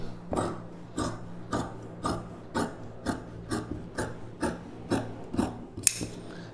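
Scissors snipping through blouse fabric during tailoring, about a dozen crisp, evenly spaced cuts close by with a soft rasp on each stroke, no voices.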